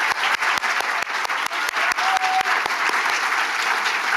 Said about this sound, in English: so we can give you all another round of applause